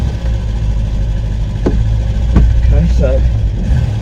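A restored barn-find car's engine runs steadily at idle with a low, constant rumble throughout, while someone speaks briefly over it.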